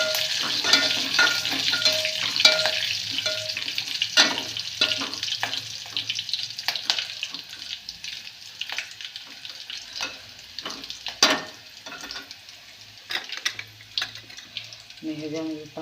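Curry leaves sizzle and crackle in hot oil, a steady spitting hiss broken by sharp pops and the clatter of stirring, close and fairly loud with no voice over it.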